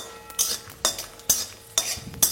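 Dried red chillies and garlic frying in mustard oil over a medium flame, stirred in the pan with five evenly spaced scraping strokes over a faint, steady background sizzle.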